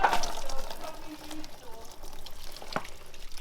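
Coolant trickles and splashes from a hose popped off the engine of a totaled 700 hp Dodge Hellcat in a garage, a soft, continuous liquid spill with a brief clunk near the end.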